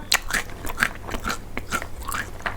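Large crunchy coated cashew nuts with nori tempura seasoning, Japanese style, chewed close to the mic, a continuous run of crisp crunches and bites with no speech.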